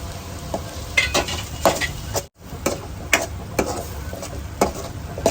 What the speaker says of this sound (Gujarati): જ્યાં સુધી ડુંગળી બ્રાઉન કલર ના પકડે ત્યાં સુધી એને પકાવવાનું છે